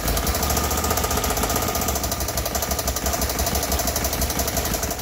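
A failing motorcycle engine runs close and loud with a rough, rapid knocking clatter, holding steady throughout.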